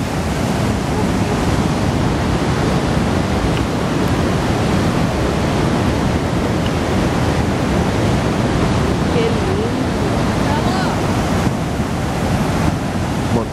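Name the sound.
powerful rushing river at Petrohué waterfalls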